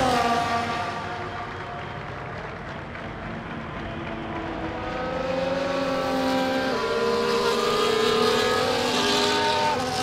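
Race cars on a formation lap in the video game F1 24 at the Canada circuit, with a steady engine drone and rising, shifting tones as several cars rev and pass, loud and continuous throughout.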